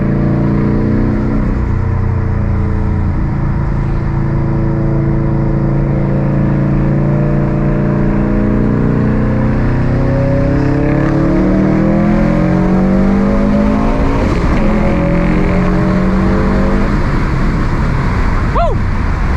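A turbocharged Subaru STI making 400 wheel horsepower with an FP Blue turbo accelerates and revs hard, loud engine tone climbing through the gears with pitch sweeps and shifts, heard from inside the car.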